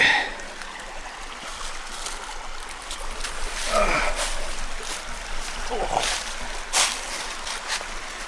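Creek water runs and trickles steadily while someone wades across it on foot during a Red River Gorge hike, with a few close splashes and sloshing steps scattered through the crossing.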